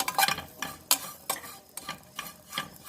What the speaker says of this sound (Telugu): ఈ ఆయిల్లోనే నేను ఇది కూడా మిక్స్ చేసుకుంటున్నాను వెల్లుల్లిపాయలతో పాటు